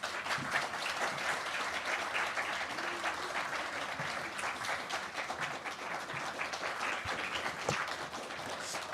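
A congregation at a Seoul Baptist church applauds during a deacon appointment ceremony, giving sustained, fairly soft clapping from many people that continues evenly for about nine seconds.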